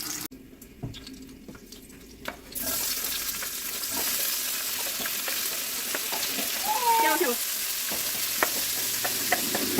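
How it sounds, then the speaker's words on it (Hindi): Animal fat frying in hot oil in a home kitchen pan, a continuous close sizzle and crackle that swells after a quieter start, with scattered pops and light clatter and no talking. "इतना तेल निकला है और ये एकदम से अब जल रहा है।"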